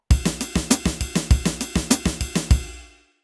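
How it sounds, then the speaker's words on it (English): A quick, even string of single drum strokes alternating between a cymbal ride and a snare, close and crisp, ending in a short ringing decay. "we have single strokes played between the ride and the snare drum."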